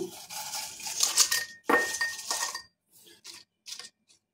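Chapati chips tipped from a pan into a bowl, with a busy run of clinking utensil and dish contact up close, then a pause and a few lighter scattered clinks.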